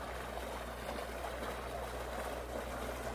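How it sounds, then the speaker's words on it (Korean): Water gushes steadily into a garden pond at a botanical garden in Jeju, a continuous broad rushing wash that holds even throughout, moderately close with no voices over it. "연못이 또 하나 있는데 물이 콸콸 쏟아집니다."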